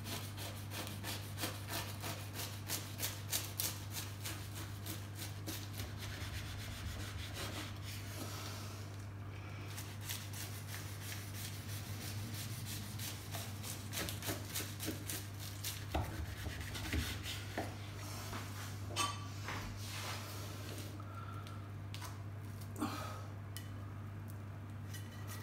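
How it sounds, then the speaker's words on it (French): A knife saws and scrapes through the crust of a salmon, spinach and fresh goat cheese pie in a long run of crisp, crackly rubbing strokes, faint and close, with no talk. "Et on va couper notre tourte."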